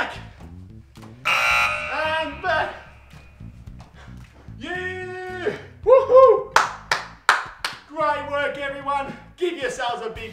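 Sharp hand claps ring out in a quick series near the end of a kids' fitness exercise session, loud and close, mixed with a coach's talking and electronic alarm-like beeps.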